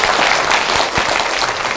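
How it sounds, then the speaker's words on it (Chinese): An audience claps together at a talk event, a dense burst of continuous applause that stays even and loud throughout the short moment, with no voices over it. "那我们再给我们的奇遇主任一个掌声哈"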